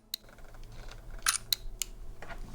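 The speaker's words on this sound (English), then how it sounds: "So this camera shutter is also very quiet, just like a Q2." A Ricoh GR III compact camera powering on, then a quiet shutter click: a few soft, sharp mechanical ticks spaced apart over faint room hush, with no voices.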